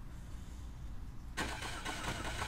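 A car engine starting in the racing game Burnout Paradise: quiet low rumble, then a sudden loud ignition catch settling into a steady, full-bodied running engine.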